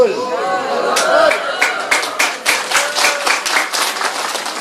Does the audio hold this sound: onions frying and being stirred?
no